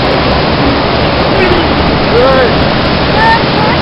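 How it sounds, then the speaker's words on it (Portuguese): Dense, steady roar of rushing water from a wild waterfall, loud and close throughout, with faint voices barely audible beneath. "Essa aqui é uma cachoeira mais selvagem."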